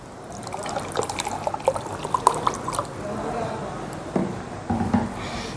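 Cold Kangen water is poured, trickling and splashing in an uneven stream with small drips, close and fairly clear, followed by a couple of louder clunks near the end.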